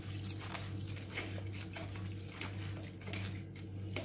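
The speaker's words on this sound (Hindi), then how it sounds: "उनको एक बार अच्छे से वॉश कर लेंगे पानी डाल के" Water is poured over flattened rice (poha) to wash it in a home kitchen, a soft, steady trickling and splashing, faint and continuous with no talking.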